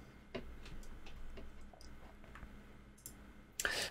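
Mouse clicks in the Unity editor: a string of small, dry, irregularly spaced ticks, faint and close, capped by one louder click near the end.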